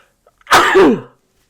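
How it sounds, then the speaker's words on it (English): A single loud sneeze bursts out sharply, with a quick breathy intake before it and silence afterward. "I'm going to sneeze."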